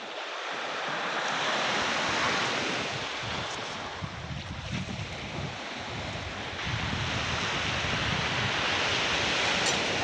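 Ocean waves breaking on an island shore, a loud continuous rush of surf mixed with heavy wind buffeting the microphone, with no voices.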